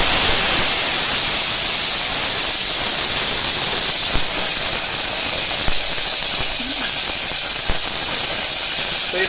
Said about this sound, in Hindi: कुकर में तेल डालने के बाद हम गोभी को पहले थोड़ा फ्राई कर लेंगे